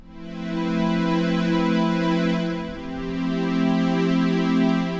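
A Microkorg synthesizer playing a lush string synth patch built with a lowered fourth, sustained chords held smoothly with a slight dip midway, loud and alone with no talking.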